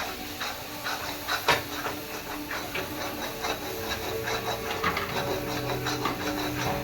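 Fried fish masala sautéing in a pan, with a steady hiss and sizzle under a run of quick scraping and tapping stir strokes, close and constant throughout.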